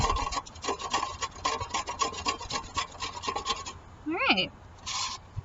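A stick of sidewalk chalk is grated on a kitchen grater outdoors, giving a series of quick rasping strokes that are close and fairly loud. A brief spoken word comes near the end.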